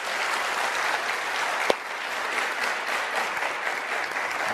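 A studio audience claps throughout a game show, dense sustained applause with one sharp louder clap partway through.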